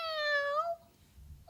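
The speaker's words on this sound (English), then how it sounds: "It was Robin, their cat" A house cat gives one clear, drawn-out meow, fairly close and quiet, followed by a brief faint start of another sound at the end.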